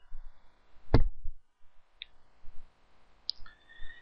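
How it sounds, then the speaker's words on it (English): Sharp computer mouse clicks on a Facebook page: one loud close click near the start, then two fainter clicks a second or so apart, in a quiet room with light keyboard-like ticks. "I'm going to click on my name,"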